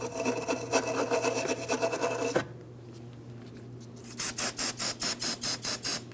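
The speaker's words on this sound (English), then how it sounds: "I'm using a wire brush for my bracket here." Wire brush scrubbing a front brake hose mounting bracket on a 2005-2010 Chrysler 300, heard as close, rough rasping strokes, a steady run of scrapes, a pause, then a quicker series of short, even strokes.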